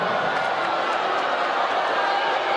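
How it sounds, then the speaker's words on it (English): Volleyball crowd at an NCAA women's championship match, Hawaii versus Northern Colorado, murmuring and grumbling steadily in a large arena after a referee call, a continuous wash of voices and jeers with a few faint scattered claps. "I think the crowd is not happy with that call."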